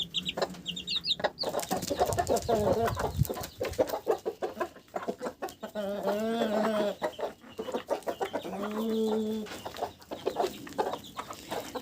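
Chickens clucking close by, with the high peeping of chicks mixed in, in a busy, continuous stream of calls.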